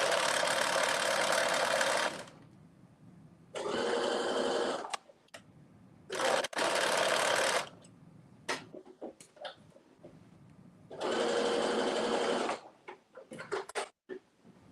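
Sewing machine stitching fabric for a caftan at a slow pace, running in three or four distinct bursts of a few seconds each, separated by quiet gaps with small handling clicks, close and fairly loud.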